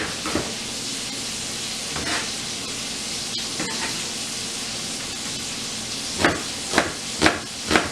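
Knife strikes a cutting board in a few sharp chops through mushrooms and onions, the last ones quicker and louder, over a steady sizzling hiss from a pan.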